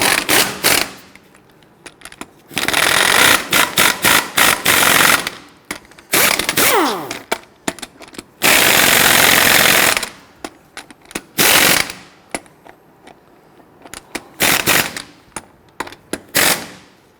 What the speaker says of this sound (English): we're going to snug them down gently in a crisscross pattern